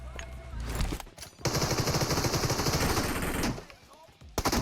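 Automatic gunfire rattles in PUBG Mobile, a loud dense burst of rapid shots lasting about two seconds, with a few shorter bursts around it and brief voice sounds in between.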